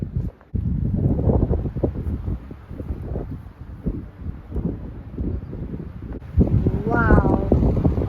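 Strong wind buffets and roars across the microphone in gusts outdoors in Modica, Sicily, with a brief lull early on and a voice speaking near the end.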